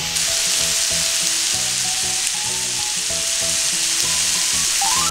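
Summer vegetables for salt-seasoned ratatouille sizzle and crackle steadily in a hot pan, a continuous frying hiss with soft background music throughout.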